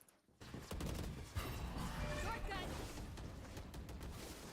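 Rapid shotgun gunfire from Valorant during a competitive esports upper finals match between OCG and DEN, dense bursts of shots crowding together under continuous caster talk.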